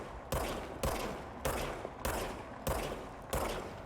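Gunfire in the video game Control comes in six evenly spaced loud shots, each a sharp blast with a short ringing tail, one roughly every half second.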